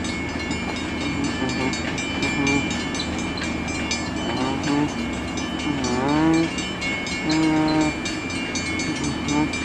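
A freight train led by GP40 locomotives rolls past with boxcars and tank cars, a steady rumble of wheels broken by several wavering horn-like squeals.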